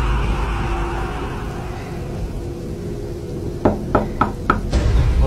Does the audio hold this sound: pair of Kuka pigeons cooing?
no